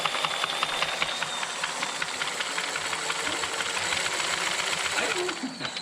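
A Revell 1/4-scale Visible V8 model engine with splash oiling runs steadily with rapid mechanical clatter and hissing, close by, around 3500 RPM, at a constant pace that eases slightly toward the end.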